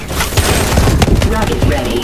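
Swarm missiles launching in Call of Duty: Advanced Warfare, a rapid volley of loud overlapping bursts and thumps crowding together over about two seconds.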